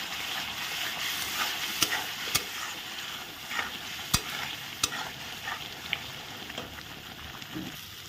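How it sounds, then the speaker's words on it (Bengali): Potatoes with chili powder and Kashmiri chili powder are stirred through sizzling oil in a pan, with a continuous frying hiss broken by intermittent scraping and tapping clicks from the stirring. "দেখো এখন ভালো করে নেড়ে চেড়ে দেবো।"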